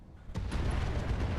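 A missile explosion in a video game hits as a single sudden deep boom after a quiet lead-in, then rumbles on loudly with a low, sustained roar.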